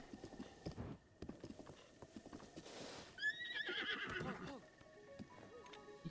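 A horse whinnies in Breath of the Wild, a loud shrill neigh with a wavering fall, following a run of hoof clip-clops on the ground, with faint scuffing around it.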